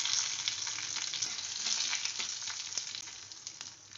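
Bay leaf and nigella seeds sizzle in hot oil with split dried chillies, a steady bright frying hiss with small crackles and pops, close and continuous, with no talking.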